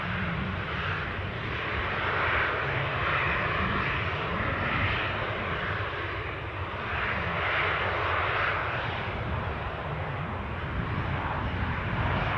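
An Eastern Airways airliner from Aberdeen on final approach to Newcastle airport makes a steady, continuous engine drone with a gently swelling and fading roar, heard alone at moderate distance.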